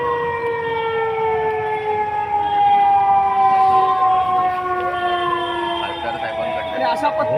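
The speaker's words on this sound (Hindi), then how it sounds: "आपण पाहताय आता सायरन वाजतोय" Civil defence warning siren wailing continuously during a civil safety drill in Maharashtra, its steady rising and falling tones loud and close for the whole stretch over a constant background rumble.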